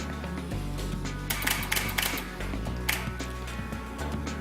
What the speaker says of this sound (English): if I press the shutter button and hold it down, you're going to hear it take 3 consecutive photos